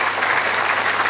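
A large audience applauds the Pope in a television studio, a dense, loud, continuous wash of clapping with no gaps.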